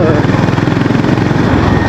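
A 2025 Honda GB350S single-cylinder motorcycle pulling hard in third gear, its engine throbbing in a loud, fast, steady pulse close to the rider.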